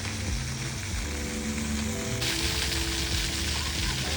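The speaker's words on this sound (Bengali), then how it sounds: "বলতে বলতেই আবার ফাউন্টেনটা স্টার্ট হয়ে গেল" A water fountain sprays among palm trees in Bahrain, a dense rain-like rush that grows slightly fuller partway through, with steady music tones underneath.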